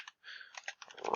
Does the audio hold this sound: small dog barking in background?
no